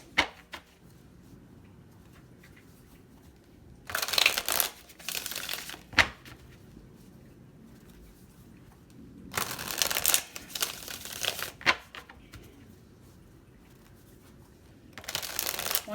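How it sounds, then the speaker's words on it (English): A deck of reading cards is shuffled in three separate bursts of rapid riffling, each a second or two long, set apart by quiet stretches. "One more shuffle."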